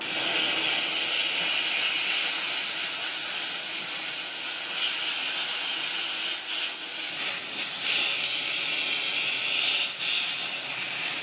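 A handheld steam cleaner sprays steam in a steady, loud, close hiss that runs unbroken for the whole stretch, with faint knocks and shifts as it is aimed at stained surfaces.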